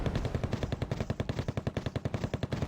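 Rapid machine-gun bursts from commandos firing on T-64BV tanks in the Wargame: AirLand Battle strategy game, a loud, steady stream of evenly spaced shots rattling for several seconds without pause.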